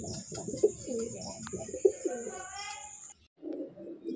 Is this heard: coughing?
no